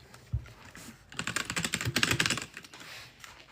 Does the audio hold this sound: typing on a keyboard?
yes